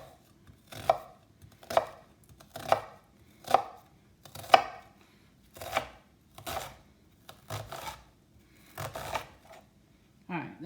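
A knife chops onion and parsley on a cutting board in a steady series of crisp, close knocks, about one every second, with brief pauses between strokes.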